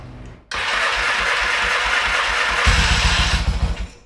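A Yamaha XS650 motorcycle that sat unused for ten years cranks and fires up in a garage, catching abruptly and settling into a loud, uneven idle with a louder throbbing burst near the end.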